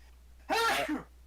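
A single loud, close sneeze bursts out during a tabletop role-playing game session played over voice chat, a sharp broadband blast followed by a brief trailing exhale, with no talk around it.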